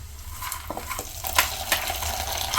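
Spoon scraping and stirring a tempering in a hot pan over a soft sizzle, with a few sharp metallic clinks.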